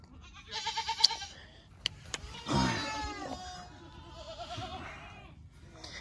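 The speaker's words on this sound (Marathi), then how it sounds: "एका ठिकाणी हे बकरी आणि ही बकरींची लहान लहान पिल्लं," Several goats and small kids bleat in short, wavering calls, some high and thin, close and fairly quiet, with a few sharp clicks between.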